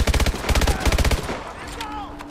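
An automatic weapon fires in Call of Duty: Advanced Warfare, a rapid close burst of about a dozen evenly spaced shots that stops abruptly, followed by quieter whirring tones.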